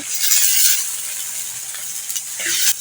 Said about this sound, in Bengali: অল্প করে পানি দিয়ে দিচ্ছি